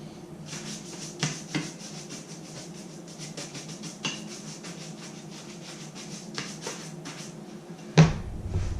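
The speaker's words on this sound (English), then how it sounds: "This is just a buffing brush here." A buffing brush sweeps dust and grass off a pair of boots in repeated quick bristly strokes, a steady scratchy rubbing with a few louder swipes and a sharp thump near the end.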